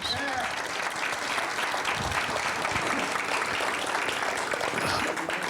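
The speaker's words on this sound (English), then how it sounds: "So I'd like to give them a hearty round of applause." An audience at a historical museum gives a hearty round of applause, a dense, continuous roar of clapping that stays loud and even from start to finish.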